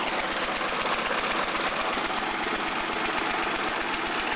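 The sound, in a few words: lawn mower engine running rough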